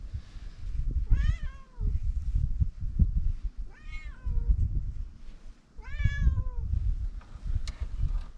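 A pet cat meows three times at roughly two-second intervals, each call clear and drawn out, heard close over a low rumbling background in a garage during an oil change on a 2004 Sunfire GT with a 2.2 Ecotec engine.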